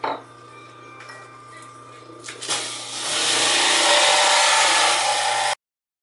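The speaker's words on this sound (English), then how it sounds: "So let's get rolling with the juicing, and let's see how it goes. Okay, so let's fire up the machine." Champion juicer juicing romaine, a faint hum that swells after a few seconds into a loud, steady whirring grind, then stops abruptly.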